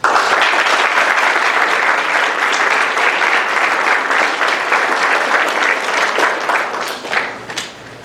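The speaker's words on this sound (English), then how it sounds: "Please give them a round of applause" Loud, dense applause from a high school audience honoring a marching band at a presentation, a steady roar of many hands lasting several seconds before easing slightly at the end.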